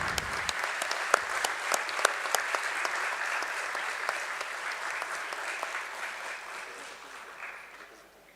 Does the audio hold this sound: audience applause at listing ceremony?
yes